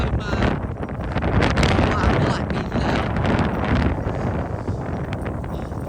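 Strong wind gusting by the East River in Williamsburg, New York, a continuous loud roar buffeting the microphone throughout, with a voice talking underneath.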